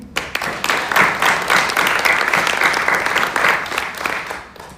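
Applause rises from the crowd at a nurses' pinning ceremony, a medium-dense clapping that swells quickly and holds steady through the moment.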